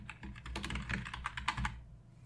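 Quick bursts of typing on a computer keyboard, a dozen or so close, crisp key clicks in an irregular run lasting under two seconds, then quiet.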